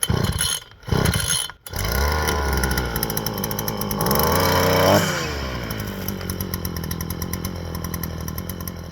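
A gas string trimmer with a repaired recoil starter is pulled a couple of times, then its small two-stroke engine catches and runs loudly and steadily, revving up and settling to a continuous buzz.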